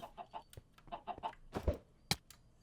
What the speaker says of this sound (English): Cluck, cluck, cluck, cluck, cluck, cluck.